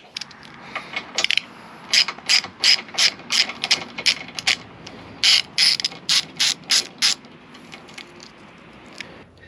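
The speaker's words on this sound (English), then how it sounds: "Now I've got to get this bracket removed. This is a T30 Torx bit." Ratchet on a T30 Torx bit loosening bracket bolts on a Can-Am Defender side-by-side: bursts of rapid, crisp pawl clicking in short repeated strokes, close and loud, with quiet gaps between the strokes and no talking.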